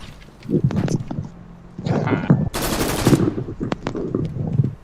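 A burst of rapid gunfire in a live-streamed video game, with a loud, dense crackling volley in the middle, amid busy in-game effects.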